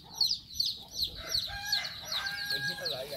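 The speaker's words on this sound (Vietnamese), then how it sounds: "Này nuôi gà đấy nữa quý vị," Chickens at a farm on Phu Quoc island cluck and squawk in quick, repeated bursts, fairly close, with a continuous murmur of birds beneath.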